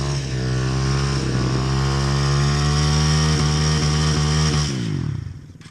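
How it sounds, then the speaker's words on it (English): A dirt bike revs hard and steadily while spinning its rear wheel in muddy woodland ruts, a loud sustained engine roar that holds for several seconds before cutting off abruptly near the end. "Do 6 mud burnouts in one of these ruts or something."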